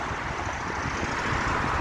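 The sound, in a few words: wind blowing during a bike ride in the woods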